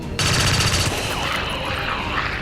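A headshot in the video game XCOM 2 lands as a sudden loud burst of rapid gunfire, a dense rattling volley that cuts off after about a second and leaves a ringing, swooping game effect behind it.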